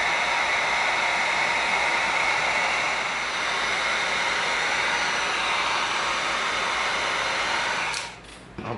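A heat gun blows steadily on EVA foam, a loud continuous airy whoosh that cuts off near the end.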